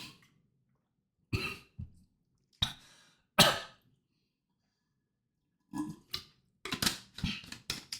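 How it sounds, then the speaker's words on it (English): A man coughs hard after choking on water, with a few harsh isolated coughs and throat clears separated by silences, then a rapid cluster of coughs near the end, close and loud with no speech. "So yeah, choked on water."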